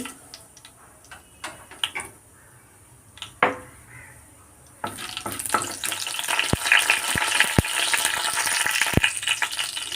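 Quiet clicks and a few sharp knocks, then a sudden loud sizzle as fenugreek seeds hit hot coconut oil, crackling steadily with occasional taps against the pan.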